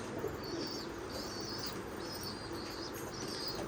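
A handled pigeon of the jeera dabba variety beats its wings in several short flurries of soft, fluttering flaps, faint and close, with a few small chirps between them.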